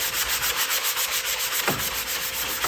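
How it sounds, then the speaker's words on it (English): A wooden decor piece from a boho kitchen and bathroom collection is sanded by hand in quick, even back-and-forth strokes, a close and steady rasping rub with no voices. "So I'm just sanding the next piece"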